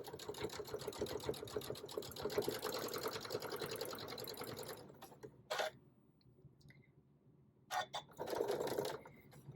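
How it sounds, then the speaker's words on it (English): A sewing machine top stitches a beginner's lined zippered pouch, running steadily for about five seconds, then stopping, with brief short bursts of stitching afterward as it slows near the end of the seam. "now we are going to just top stitch"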